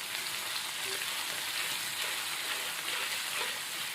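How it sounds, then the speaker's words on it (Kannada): Onion fries in oil in a kadai in a village kitchen, making a dense, steady sizzle like light rain that holds even throughout, close and moderately quiet, with no talking. "ಹಾಕೊಂಡು ಒಂದು ಜರ ಫ್ರೈ ಮಾಡ್ತೀನಿ."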